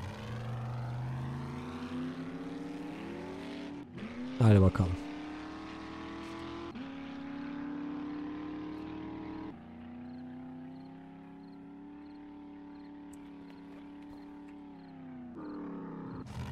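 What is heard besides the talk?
buggy engine driving in the 7 Days to Die video game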